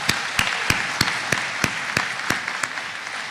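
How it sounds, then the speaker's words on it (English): An audience at a school graduation ceremony applauds steadily, a dense wash of clapping with regular louder claps punctuating it, sustained throughout at moderate volume. "Join me in a round of applause to pay tribute to these most remarkable people."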